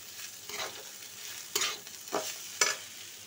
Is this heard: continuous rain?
no